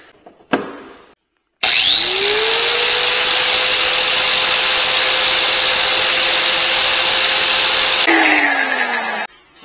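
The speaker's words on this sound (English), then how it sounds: "Run this hand grinder." A hand grinder running on an EGRETECH Sonic 1200W portable power station starts with a quick click, then whines up to a loud, steady high-pitched drone for about six seconds before spinning down.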